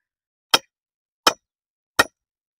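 A hammer strikes a 1.5 inch GI pipe fitting three times, sharp evenly spaced metallic knocks with short decay and silence between.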